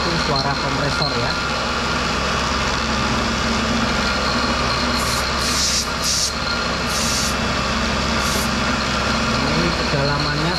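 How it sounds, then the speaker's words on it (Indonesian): An air compressor runs in a workshop, a loud, steady mechanical drone with constant low hum that fills the whole stretch without pause. "Mungkin agak berisik masih itu suara kompresor ya."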